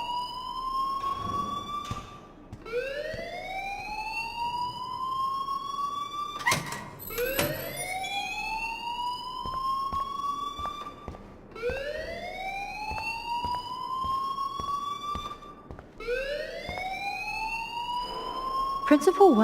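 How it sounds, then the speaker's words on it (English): Whooping school alarm in the Life Is Strange video game, a rising electronic wail repeating about every five seconds, loud and steady, with someone talking between and over the cycles. "please turn off that alarm since that's your job"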